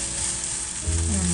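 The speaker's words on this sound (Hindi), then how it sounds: "बस ये हमने 4 चीजें जो हैं फ्राई करनी है जल्दी से।" Green onions and other vegetables fry for a kabab handi masala, giving a loud, close, continuous sizzle that swells with a deeper hiss near the end.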